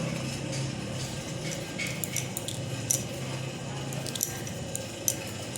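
Fish fat being mixed by hand with salt and ginger-garlic paste for Bengali fish-oil fritters, with soft wet squishing and light clinks of a utensil against a bowl, steady and close with no talk.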